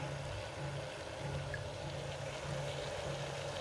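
Water is poured over soaking seeds in a container, a steady pouring and trickling sound with faint hiss. It is quiet, continuous and alone throughout.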